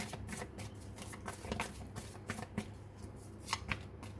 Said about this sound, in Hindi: चलो मैं यहाँ से भी कुछ कार्ड्स निकाल लेती हूँ चाक्रा विजडम ओरेकल डेक से।